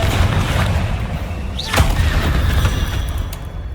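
Confringo blasting spell exploding in Hogwarts Legacy, a rising magical whoosh followed by a sharp boom over a low rumbling backdrop, close and loud, no talk.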